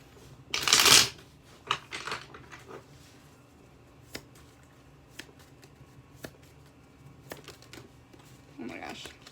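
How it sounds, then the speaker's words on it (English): A deck of tarot cards is shuffled, with a loud riffling burst near the start followed by scattered soft taps and card slaps, and quiet talk at the end. "shuffle one more time"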